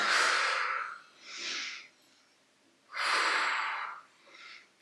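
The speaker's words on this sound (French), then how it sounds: "Allez, inspire, expire." Deep breathing during a back and abs exercise class: two slow breath cycles, each a long, loud, airy inhale or exhale followed by a shorter, softer breath, close to the mic with a quiet pause between.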